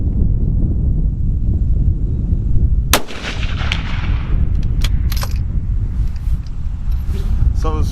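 A precision rifle fired at steel plate targets roughly 600 yards out. A few sharp, loud shot cracks arrive a second or two apart over steady outdoor wind rumble.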